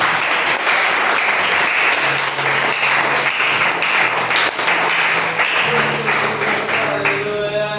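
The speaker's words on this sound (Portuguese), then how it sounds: "Aplauda o Senhor em nome de Jesus." Church congregation applauding together at a worship service, a dense, steady wash of many hands clapping throughout, with sustained organ or keyboard notes rising underneath toward the end.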